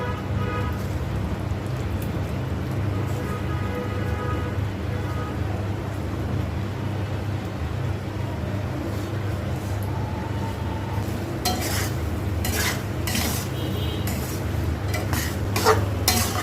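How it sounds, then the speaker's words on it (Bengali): Crushed garlic and fried beef cooking in a pan for a beef pickle, giving a long, steady sizzle over a low hum, with sharper clinks and scrapes toward the end. "আস্তে আস্তে করে রসুনটাকে আরেকটু নরম করে নেব এখন যে ভেজে রাখা মাংসগুলো সব দিয়ে দিব"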